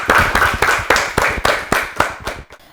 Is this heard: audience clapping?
yes